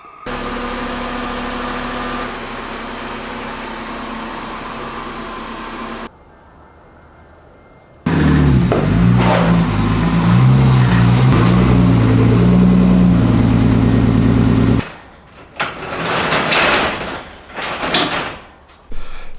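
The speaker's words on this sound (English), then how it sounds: "I'm gonna go ahead and pull it out, pull the BMW back in" A BMW is started and idles close by as it is moved back into a home shop. A steady engine drone runs first, then comes a quiet gap, then a louder rumbling run with clunks and shifting mechanical noises near the end.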